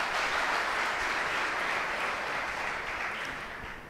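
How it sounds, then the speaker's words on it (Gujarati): An audience at a Swaminarayan religious discourse claps, steady dense applause held for several seconds and tapering slightly at the end, with no talking. "એક વાર તાળી સદાવ"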